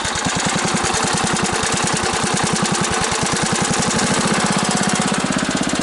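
Bolens Husky 1050 garden tractor with a 10 horsepower Briggs & Stratton engine running close by, a loud steady rapid chugging beat throughout with no talk.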